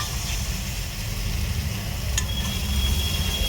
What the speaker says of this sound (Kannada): ಇವಾಗ ಮೊಟ್ಟೆ ಹಾಕ್ತಾ ಇದ್ದೀನಿ